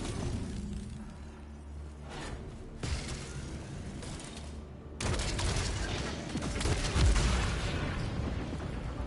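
Rapid gunfire from a powerful weapon in the sci-fi shooter Returnal, a dense stream of shots with heavier bursts that grow louder and closer in the second half, no voices.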